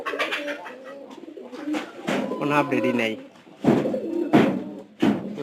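Pigeons coo indoors in a loft or coop, with soft repeated throaty calls up close. Someone talks over them, and a few sharp knocks or thumps break in near the end.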